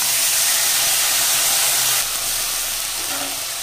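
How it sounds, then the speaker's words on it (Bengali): Onion paste hitting hot oil tempered with dried red chillies, for a Bengali lunch thali, gives a loud, steady, hissing sizzle that carries on close-up throughout with no talking. "এখানে যে পেঁয়াজ পেস্ট করা দিয়ে দেবো।"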